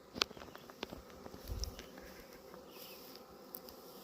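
A honeybee swarm moving into hive boxes gives a faint, low buzzing hum close by, with a few brief louder clicks and taps over quiet outdoor background and no talk.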